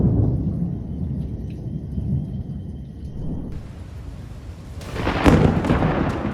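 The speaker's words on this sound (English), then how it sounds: "flashes appear continuously during a severe storm" Thunder rolling through a severe storm in Michigan, a loud low continuous rumble with rain underneath, swelling into a sharper, brighter crack and heavier burst toward the end.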